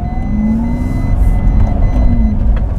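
A Lamborghini Revuelto V12 engine hums smoothly from inside the cabin while driving, a steady, fairly loud low drone with faint tonal whine rising slightly at times and no talk over it.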